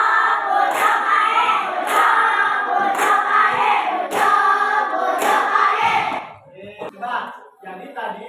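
A classroom of primary-school children claps in a rhythmic patterned clap, loud and close with voices chanting along, ending in scattered quieter claps and chatter.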